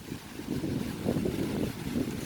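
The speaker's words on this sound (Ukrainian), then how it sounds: "сьогодні вітер такий страшний" Strong gusty wind in a garden buffets the microphone with a low, rushing roar that rises and falls, no voices.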